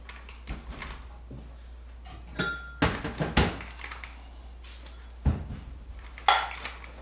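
Bowls are lifted out and set down in a home kitchen during dinner prep, giving a scattered series of close ceramic clinks and clatters with brief quiet gaps between them.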